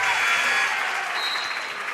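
A basketball crowd in a gym, cheering and clapping in a steady, dense roar that holds at full volume throughout.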